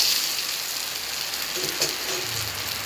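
Ginger and garlic fry in a pan with a steady, close sizzle that stays even throughout, and no one speaks.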